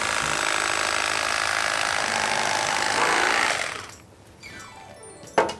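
A Thanko Electric Knife Slim slices through bread with a loud, steady buzzing whir for several seconds, then winds down, ending in a brief clack.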